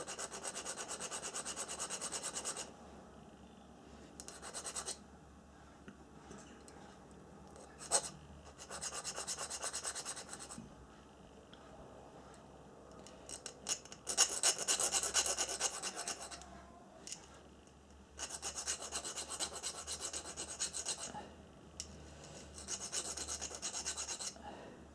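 A small Woodruff key for an AJS Stormer CDI fitting is filed to remove burrs, repeated rasping strokes in bursts with short pauses between, close and alone.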